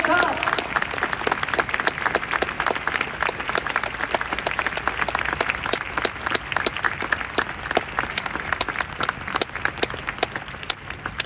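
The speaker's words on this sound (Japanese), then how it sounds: "斉藤トレーナーにも大きな拍手をありがとうございました。" Crowd applause at a Yokohama FC home-finale ceremony at Nippatsu Mitsuzawa stadium, a sustained, fairly loud patter of many hands clapping for the coaches, steady throughout with no talk over it.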